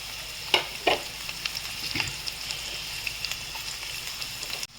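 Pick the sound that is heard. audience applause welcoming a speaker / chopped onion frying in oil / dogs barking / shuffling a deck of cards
chopped onion frying in oil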